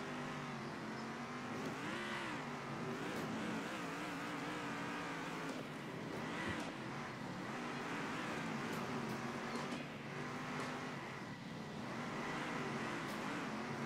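Race car engines in the video game Circuit Superstars, a continuous buzzing drone that rises and falls in pitch as the car accelerates and brakes, fairly faint and steady throughout.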